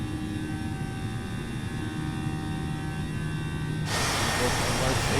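Airbus A320 jet engines spooling up at takeoff in a flight simulator, a steady loud roar with hum that jumps to a broader, louder rush near the end, heard alone without talk.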